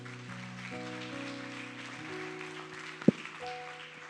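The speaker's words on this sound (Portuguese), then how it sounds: "Você pode aplaudir ao Senhor?" A church congregation applauds softly beneath sustained organ or keyboard chords, with one sharp knock partway through.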